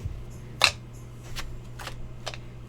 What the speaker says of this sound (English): then we're going to burn these cards